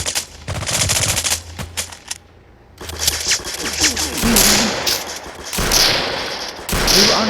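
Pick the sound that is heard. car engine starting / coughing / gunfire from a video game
gunfire from a video game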